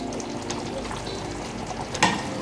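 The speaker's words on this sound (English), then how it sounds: "Give this a good stir." A pot of unripe plantain porridge with chopped scent leaf is stirred, giving a soft continuous bubbling and scraping close by, with a brief louder knock near the end.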